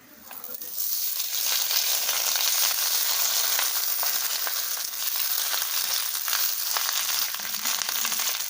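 A banana leaf parcel of Maggi and ingredients set into hot oil in a wok, a bright, steady sizzle rising after a second and holding loud and close.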